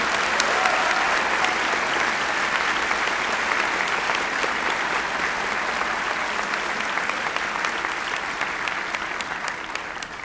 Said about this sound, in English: I think these people deserve a thundering ovation.